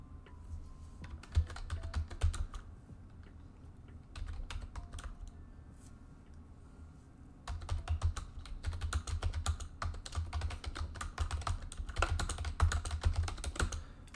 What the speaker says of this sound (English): it's very loud when I'm typing because my keyboard is a very loud keyboard